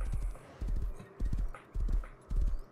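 Hooves of a horse in the video game Rust clip-clop in a steady rhythm, five heavy beats each paired with a quick double strike, close and loud.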